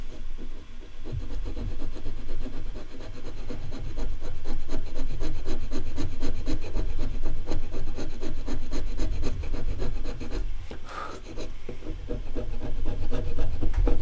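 Steady rubbing and scraping of a chisel working wood, a continuous close, textured grind carrying on for the full stretch with a short break near the end.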